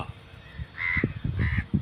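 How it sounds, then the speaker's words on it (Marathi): A crow caws twice, loud and nearby, over a rumbling outdoor background. "कावळा"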